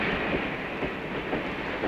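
A train in an old comedy film rumbles past with a steady, close mechanical roar and faint rhythmic rail clatter, heard alone with no talking.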